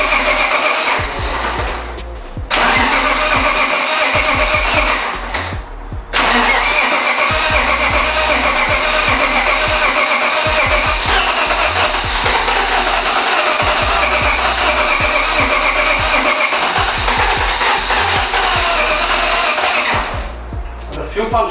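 BMW M52 3.0L stroker inline-six in a race build starting up and running, its loud steady drone held for most of the stretch with brief dips, while people talk nearby.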